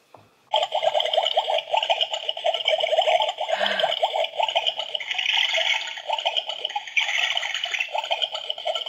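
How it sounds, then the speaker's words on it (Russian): A cold-water tap runs in a steady, close hiss and patter for several seconds after a short pause, continuous with slight fluctuations. "Крутится кран, холодный."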